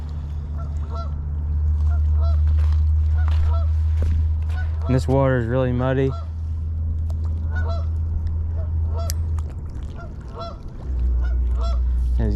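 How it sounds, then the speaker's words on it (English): Geese honk loudly in a rapid burst near a muddy river on a late-winter carp fishing trip, with scattered fainter honks before and after and someone talking over a steady low hum. "These geese are gonna be hollering the whole time."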